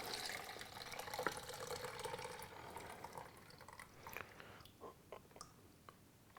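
Homemade caffenol black-and-white film developer pours out of a film developing tank in a sloshing, gurgling stream, fading into a few faint trickles and drips near the mic.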